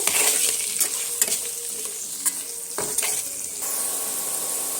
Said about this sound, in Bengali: নুন হলুদ দিয়ে আমি আলুগুলো সুন্দর করে একদম লাল লাল করে ভেজে নেব একটু